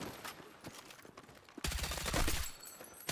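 Rapid gunfire from a Battlefield 6 weapon crackles in dense bursts. A quieter scattered stretch gives way to a louder, sustained volley near the end, with no voices over it.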